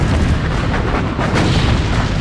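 Main battery broadsides from 14-inch and 16-inch battleship guns at sea, heard as a dense, continuous roar of heavy booming fire with no pauses, loud and close throughout.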